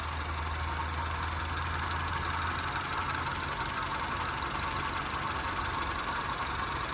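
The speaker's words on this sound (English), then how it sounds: "nice and smooth running engine" A 2007 Honda Civic LX engine idles under the open hood, a faint, steady, even hum with a low rumble and no other sounds.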